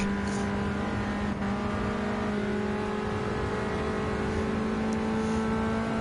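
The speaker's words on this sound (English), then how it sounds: "Overtake the same BMW M3 Sport Evolution." Race car engines in Gran Turismo 7 drone loudly and steadily while overtaking a BMW M3 Sport Evolution, with two engine notes holding high revs, one pitch stepping up briefly.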